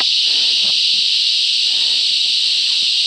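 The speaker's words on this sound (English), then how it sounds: "Check out those cicadas though." Cicadas buzz in a dense, continuous high-pitched drone, loud and unbroken throughout, with no voices, outdoors in Imbil, Mary Valley.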